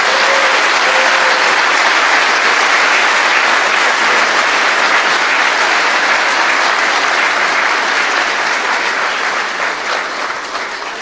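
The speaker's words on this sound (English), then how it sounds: "please show your support in a rousing round of applause" Loud, sustained applause from an audience at the Baha Mar ribbon cutting ceremony, dense steady clapping filling the whole stretch and tapering slightly at the end.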